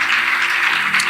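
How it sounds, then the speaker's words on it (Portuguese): Church congregation clapping together after a prayer, a steady wash of applause filling the short moment with no voices over it. "Uma linda salva de palmas para o Senhor"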